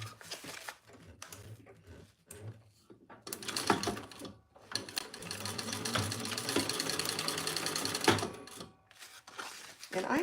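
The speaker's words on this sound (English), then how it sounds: "We're gonna fold that over and we're gonna stitch our sides closed." A sewing machine stitches the side seams closed on a small Ciana bag, its fast mechanical whirr running in bursts that stop and start, with one long sustained run in the middle and talk heard in the pauses.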